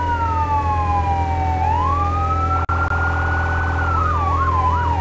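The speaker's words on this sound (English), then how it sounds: "if you're that close to the engine, that you're on a different siren pattern than what the engine's on" A fire engine siren in the video game Firefighting Simulator wails loudly and steadily, sliding up and down and then switching to a fast yelp pattern over a constant engine rumble, with no talking.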